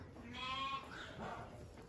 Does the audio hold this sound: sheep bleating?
yes